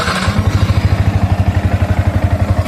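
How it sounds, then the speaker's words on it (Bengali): A Yamaha R15 V4 motorcycle engine idles in neutral just after starting, with a loud, close, steady rapid thumping pulse and no talk. "তো বাইকটাকে আমি স্টার্ট করে রাখলাম।"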